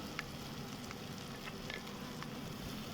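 A ground spice mixture for grilled eggplant bharta fries in a pan, a soft steady sizzle with faint stirring scrapes, quiet and close, with no voices.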